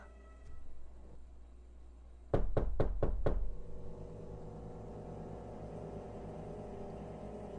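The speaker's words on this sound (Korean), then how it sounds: "두 번 정도 가볍게 노크했다." Knocking on a door with a glass pane, an audio-drama sound effect: five quick, sharp raps in a tight row, loud and close, standing out against a low, steady hum.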